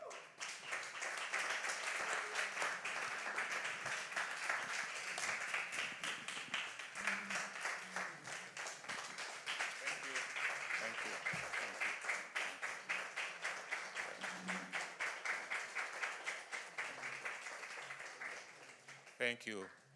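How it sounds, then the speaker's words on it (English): A lecture audience applauds after a keynote at an African art music symposium, giving sustained, fairly quiet rhythmic clapping for about twenty seconds before it fades. "let's meet and give Prof more rounds of applause"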